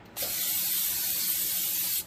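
Cooking oil is sprayed from a can into a pan in one continuous hissing burst of nearly two seconds, close and loud, stopping abruptly.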